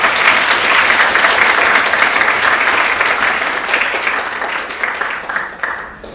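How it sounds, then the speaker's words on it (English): Loud, sustained applause from a large lecture audience, steady throughout and tapering slightly toward the end. "But give a big applause for Rami Ismail."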